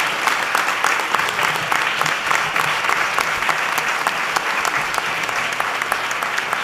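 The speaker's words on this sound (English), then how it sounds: "Please give a big round of applause to all of our kids." Audience at a Sunday afternoon cultural program giving a big round of applause for children's musical performance, a loud, steady, continuous wash of clapping from many hands without a break.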